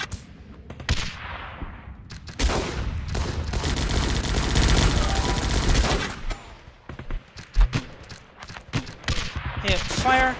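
Bursts of rapid gunfire and explosions from the video game Guns Up!, loud and dense in the middle, with sharp separate shots before and after, under game voices shouting.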